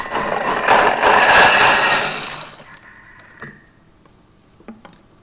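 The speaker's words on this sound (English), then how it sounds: "So just a liquidizer or a stick blender will do fine." A stick blender whirs loudly through vegetable soup for about two and a half seconds, then cuts off, leaving a few quiet clicks and knocks.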